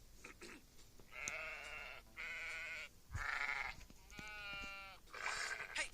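Sheep bleating in an animated cartoon: a run of five or six loud, wavering bleats with short gaps between them, close and clear with no speech over them.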